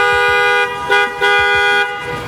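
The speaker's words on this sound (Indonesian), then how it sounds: "Coba mas tes klaksonnya" Two short honks from a car horn being tested during vehicle preparation, the steady harmonic tone sounding loud and close, with a gap between the blasts.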